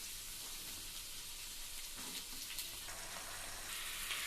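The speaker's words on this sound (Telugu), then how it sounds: "నెక్స్ట్ బీనీస్ వేసేసుకోవాలి." Green beans fry and get stirred in a pan with carrots, giving a quiet, steady sizzle with soft scraping of the mix throughout.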